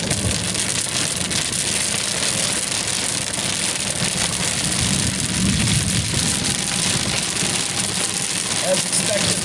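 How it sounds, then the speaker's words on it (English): Steady heavy rain drums on a moving car during a storm in Western Pennsylvania under a tornado warning, a dense constant hiss mixed with low road and engine rumble, loud and close. "As expected, the rain's picking back up."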